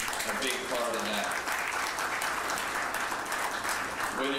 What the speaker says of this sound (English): I want to give everybody a round of applause in this room for being a big part of that.